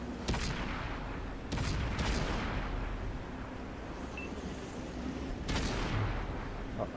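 Tank cannon fire in a competitive online tank battle match, several sharp booming shots over a dense, continuous rumble of battle noise, loud and close with no talk.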